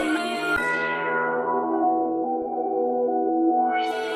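A bell-like drill beat loop runs through a lo-fi filter that sweeps closed, dulling the top end to a muffled tone before opening back up, with a faint low thump under it.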